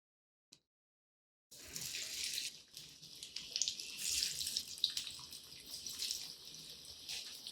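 Mung bean vada batter drops into hot oil on medium heat and sizzles in a steady, close crackle, with brief pops rising from time to time after a short quiet start.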